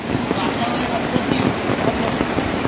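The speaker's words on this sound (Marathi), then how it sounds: "पाऊस तर जोरात चालू आहे." Heavy monsoon rain drumming steadily on a trekking path near Chorawne in Chiplun, a dense, loud hiss with scattered drops close by and faint voices underneath.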